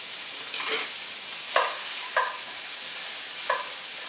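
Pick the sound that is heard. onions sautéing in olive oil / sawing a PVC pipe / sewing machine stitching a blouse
onions sautéing in olive oil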